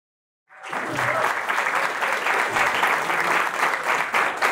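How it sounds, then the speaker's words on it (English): Audience applause after a talk at an International Women's Day event, a dense, steady clapping that starts suddenly after brief silence and holds at full strength throughout, close and loud with no talk over it. "Thank you for the applause"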